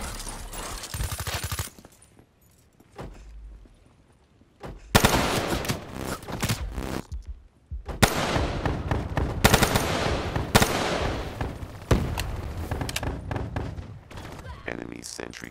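A sentry gun fires in Call of Duty: Black Ops III in loud, rapid automatic bursts separated by quieter gaps, with several separate volleys over the span.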